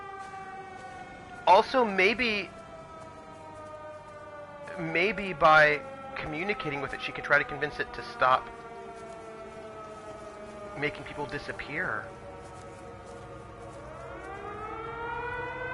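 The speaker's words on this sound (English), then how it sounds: "I hear the air raid siren." A rising and falling air raid siren wails steadily in the background, its long tone running beneath intermittent conversational talk throughout.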